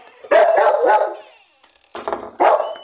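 A few sharp dog barks close by, two bursts then a pause, followed by two more barks.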